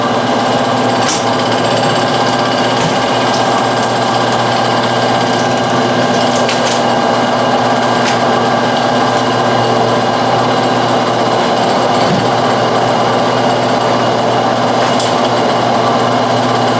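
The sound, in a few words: honey extracting machine cutting wax off frames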